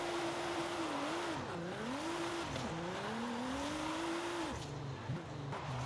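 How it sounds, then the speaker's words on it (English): A Nissan 240SX drifts in Forza Horizon 5, its engine droning and wavering in pitch as revs rise and fall through long slides, accompanied by a constant hiss of tire noise. "after a couple of minutes of sliding around in my 240SX"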